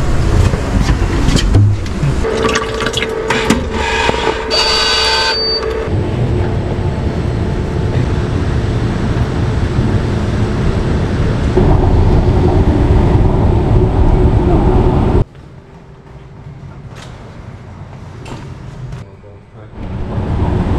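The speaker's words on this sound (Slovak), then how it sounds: "už nastupujeme na ten vlak" Continuous rumbling of a moving train at Štrba, Slovakia, loud and steady, with voices talking over it; the noise suddenly drops to a quieter hum near the end.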